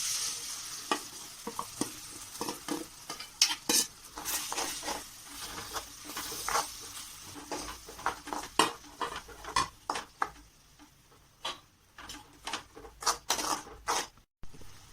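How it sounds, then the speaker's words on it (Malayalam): Ground roasted coconut paste is poured into a ridge gourd curry and stirred in the pan, producing repeated close spoon scrapes and knocks over a faint simmering hiss. "തേങ്ങ വറുത്തത് അരച്ചത് ഞാനിതിലേക്ക് ഒഴിക്കുകയാണ് കേട്ടോ"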